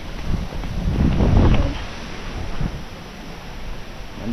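Outdoor wind gusting into the microphone, a low rumbling roar that swells to a peak and then eases back to a steadier blustery hiss.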